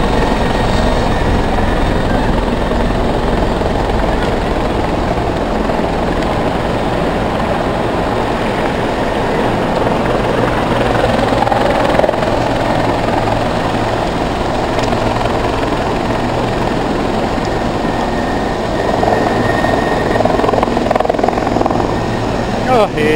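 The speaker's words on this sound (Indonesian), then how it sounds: "pengawasan dari udara senantiasa dilakukan juga melalui helikopter" A helicopter flies over Arafah, its rotor drone loud and continuous throughout while someone speaks over it intermittently.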